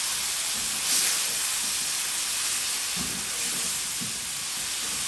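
A small splash of water hits masala frying for aloo methi sabzi and sets off a loud, steady hissing sizzle that fills the whole stretch, with no voices.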